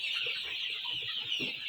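A flock of about a thousand birds on a poultry farm in Uganda clucks in a steady, dense chorus, with a continuous high hiss of activity and scattered nearer clucks throughout.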